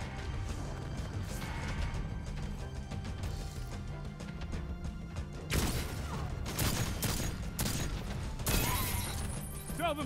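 Grenade blasts in Destiny 2 gameplay, a cluster of sharp crashing bursts in the second half over steady game noise and scattered gunfire.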